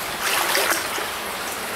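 Water trickles and flows steadily through a Moscow sewer collector where an underground stream splits into two channels, a close, echoing burble heard alone.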